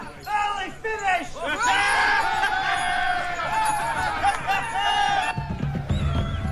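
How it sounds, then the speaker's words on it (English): A large army crowd in a film cheers and shouts together from across a camp at night before a battle with the French, sustained and voiced, carrying over a distance with shifting calls. "What are they cheering about over there?"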